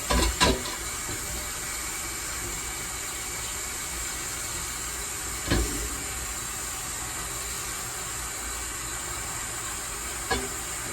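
Water pours steadily into a pot ready for boiling beef, a continuous rushing splash with a few soft knocks of the pot along the way.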